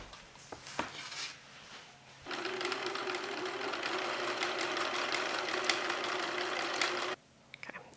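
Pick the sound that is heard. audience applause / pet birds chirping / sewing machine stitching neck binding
sewing machine stitching neck binding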